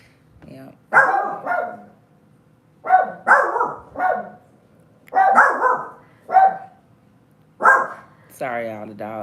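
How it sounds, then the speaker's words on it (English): Dogs bark loudly in repeated clustered bursts inside a home as a visitor arrives to look at the roof, with quiet pauses between volleys and a higher whining note at the very end. "the dogs"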